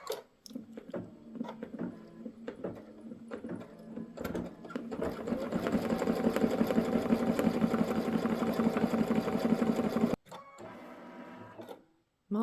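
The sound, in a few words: embroidery sewing machine stitching tack down stitch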